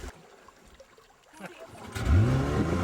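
A boat's outboard engine on the Amazon river, quiet at first amid faint background noise and voices, then kicking in and revving up loudly near the end.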